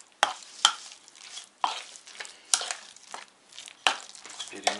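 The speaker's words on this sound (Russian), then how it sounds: "Перемешать, да, правильно, как Саша мне говорит, перемешивай, перемешать." Muffin batter being stirred by hand in a home kitchen, a series of soft scraping, crinkling strokes in uneven bursts, close and moderately loud with no talk over it.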